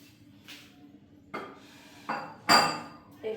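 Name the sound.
goat meat being put into a wok, pan clatter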